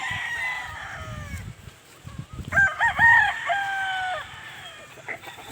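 On a game farm where the hens and roosters shelter from the heat, a rooster crows loudly and clearly once amid softer clucking, over a faint steady background hum.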